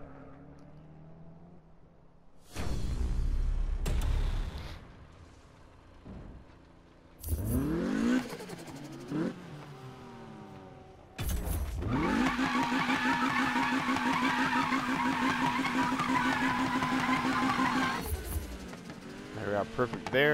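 Video-game car engine racing and revving in Need for Speed 2015, in loud bursts with rising and falling pitch sweeps, a sustained high-revving stretch near the end, and tire squeal.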